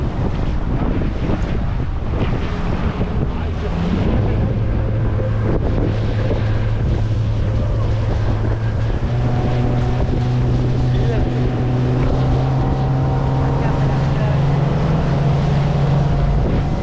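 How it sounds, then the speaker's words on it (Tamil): A motorboat speeds across open water near Guruvayoor, its engine droning steadily with rising tones as it gathers speed, mixed with rushing water, splashing spray and wind buffeting the microphone throughout. "செம்ம ஸ்பீடாக போகுதுங்க. அள்ளி எரியுது தண்ணியை."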